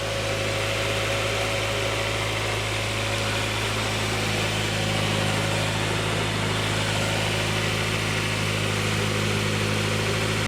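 Car engine idling steadily after being jump started with a Noco GB20 jump starter, warming up with a constant close, loud hum and a faint ticking running underneath, no voices.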